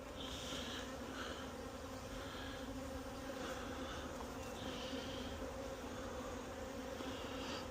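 A steady, dense buzzing of many honey bees around a hive during swarm season fills the clip, constant and close, with no talking.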